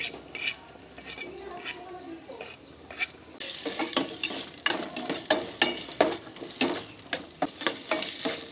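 Onion and garlic sautéing in a pan while being stirred, a steady sizzle overlaid with repeated scraping and clinking of a utensil against the pan, close and fairly loud.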